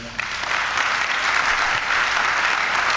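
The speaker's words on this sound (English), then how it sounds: "A round of applause for them." A crowd at an awards ceremony for top WASSCE students in Ghana applauds steadily, a dense, even wash of clapping that holds at full strength from start to finish.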